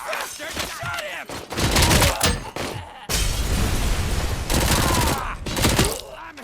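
Dense video-game gunfire, loud and close, with rapid volleys of shots and booming impacts that come in heavy bursts separated by brief lulls.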